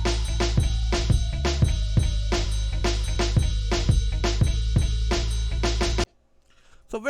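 A hip-hop drum pattern from an MPC expansion plays: punchy kicks, crisp snares and busy percussion hits in a steady groove, loud and upfront, stopping abruptly near the end.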